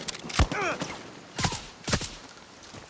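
Gunfire in the video game Far Cry 6: three sharp, fairly loud shots spaced about half a second to a second apart, with faint ambient background between them.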